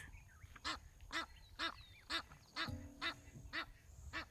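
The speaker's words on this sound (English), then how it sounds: "We've got those white-faced whistling ducks having some good breakfast time" White-faced whistling ducks calling outdoors on safari grounds while feeding: eight evenly spaced, clear nasal calls about half a second apart, close and moderately loud over a low background rumble.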